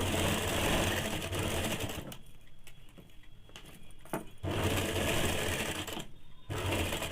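Sewing machine stitching a seam on a heavy petticoat, a rapid steady mechanical clatter in close runs broken by short pauses, then resuming loudly.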